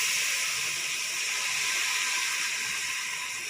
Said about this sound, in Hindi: पानी शामिल करेंगे ताकि हमारा मसाला जल ना जाए।